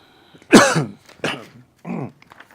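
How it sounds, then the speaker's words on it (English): Three short, harsh coughs close to the microphone, the first loudest, separated by brief pauses. "we have whatever that little cough is going around everywhere"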